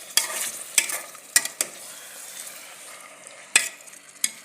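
Chickpeas fry quietly in a pan with a soft, steady sizzle, punctuated by several sharp scrapes and clacks of stirring spread unevenly across the few seconds, with no talking.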